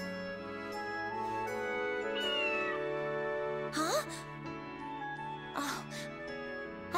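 A cat meows in the GrimGrimoire OnceMore video game, two short rising mews over a sustained musical background, with a voice speaking as well.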